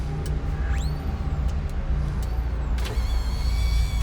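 Motorized transfer seat in a 2019 Chrysler Pacifica Touring L Plus mobility van whirring into motion. A rising electric whine sounds briefly, then a second steady whine plays over the low idling hum of the vehicle.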